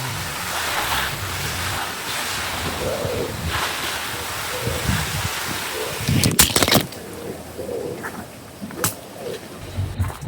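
A garden hosepipe sprays water over tropical plants, giving a continuous rushing hiss that swells and fades in uneven surges, with a few sharper splashes partway through.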